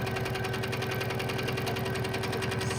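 A sewing machine runs steadily during free motion quilting, its needle chattering in a fast, even mechanical rhythm with a constant motor whine, close and continuous with no talking.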